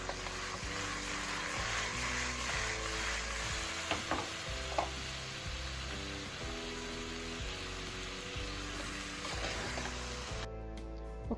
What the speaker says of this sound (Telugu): ఇప్పుడు చికెన్కి మసాలాలన్నీ బాగా కలిసే వరకు తిప్పి కలుపుకుందాం.